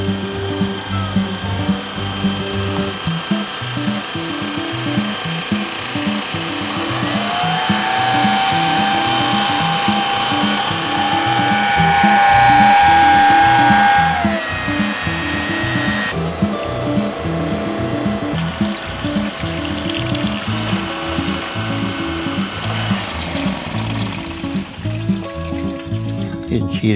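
Small motor pumping maple sap through a hose into a big tank, a steady mechanical whir and rattle with a rising tone in the middle, close by, while people talk over it.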